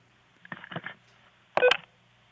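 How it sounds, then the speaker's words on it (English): Telephone keypad DTMF tones from a caller dialing into a county commission meeting line: a few short beeps, then a louder, longer tone burst, clear against a quiet line. "Ethan Seidenberg, please press #2 on your telephone."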